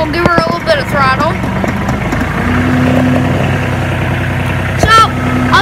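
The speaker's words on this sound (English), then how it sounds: "We'll give her a little bit of throttle." Tractor engine idling close by as throttle is given, a steady low rumble rising slightly in pitch, with someone talking over the start and end.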